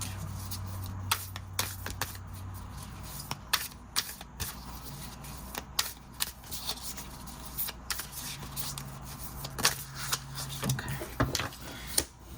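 A deck of tarot cards is shuffled by hand in a quiet room, giving repeated crisp riffling bursts and soft slaps in an uneven rhythm, close and clear.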